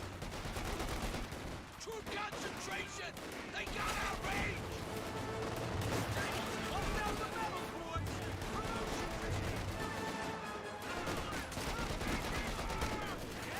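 Sustained machine-gun and rifle fire crackles through a Company of Heroes 2 battle alongside mixed combat noise, running continuously under steady spoken commentary.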